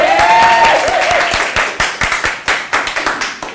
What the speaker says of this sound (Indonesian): kita beri tepuk tangan dulu pada kelompok